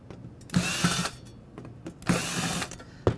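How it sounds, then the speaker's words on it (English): Short bursts from a power drill backing out side screws on a 10ICB 480 machine during repair, three or four brief whirring spurts separated by quiet gaps, close up with no voices. "Then remove the 3 side screws from each side."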